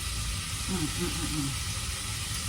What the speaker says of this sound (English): I have my fish frying